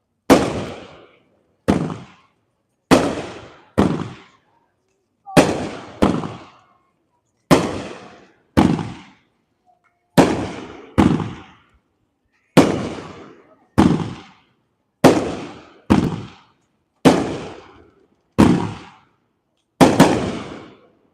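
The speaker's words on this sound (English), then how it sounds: "First one we got on the agenda is a 10-shot cake called Thundercat." A Great Grizzly Thundercat 10-shot 360-gram fireworks cake fires at an outdoor demo night, each shot a loud sharp launch thump followed by a crackling burst, in quick pairs and singles spread over twenty seconds with silence between.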